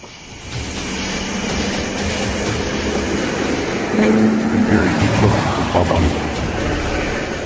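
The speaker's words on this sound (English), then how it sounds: "The sound of an approaching engine turns out to be nothing more than oncoming traffic." Oncoming traffic approaching a bridge at night, a steady rumbling engine roar that swells slightly louder midway, with no talk.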